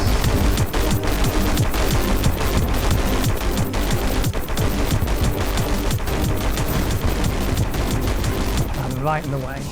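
Rapid, dense gunfire fills a Terraria Calamity boss fight, a continuous barrage of shots that stays loud throughout and thins out right at the end.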